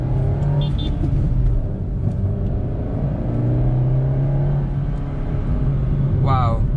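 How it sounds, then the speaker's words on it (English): A 4th-generation Honda City VX car engine drones steadily at high revs above 4500 RPM throughout, a continuous loud rumble with a brief higher whine near the end; a voice talks over it. "it's only really after 4500 RPM where this car really opens up the taps"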